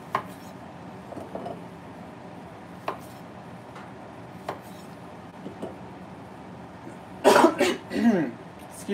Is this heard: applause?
no